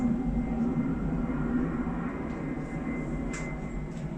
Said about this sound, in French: j'allume la caméra et un avion passe.